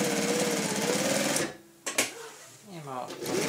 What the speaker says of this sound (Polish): To tylko szycie w miejscu.